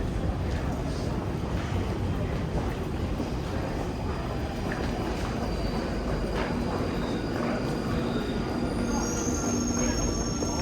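London Underground Northern line train at a northbound platform: steady loud rumble of the train with rolling wheels, a faint squeal and some hiss, continuous throughout with no talk.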